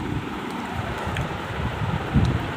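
Heavy rain driven by strong wind outdoors, a continuous rushing roar with low gusty rumbles and a stronger gust near the end.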